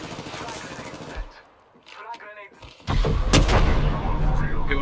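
Apex Legends gunfire: rapid weapon shots crack over game noise and talk, dip into a quieter stretch, then return as a loud, sustained barrage of bursts near the end.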